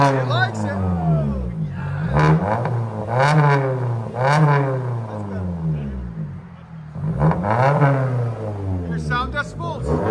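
A 2022 Toyota Corolla SE 2.0L fitted with a Vibrant bottle resonator and muffler revs its exhaust several times, each rise and fall loud and close, with a steady rumble between the revs.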